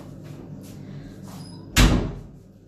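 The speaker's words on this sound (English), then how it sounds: "Oh, I'll shut the door." A household door is shut with one solid thud that decays quickly, following quiet indoor background rustle.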